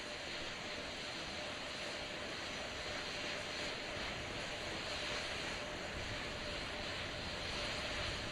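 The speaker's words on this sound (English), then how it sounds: "we're going to get that thrust vector control actuator test. This is a gimbaling of the engines" Steady broadband roar from four RS-25 rocket engines at the Artemis II launch pad during the thrust vector control actuator test, a continuous even wash of noise heard from a distance with no talk.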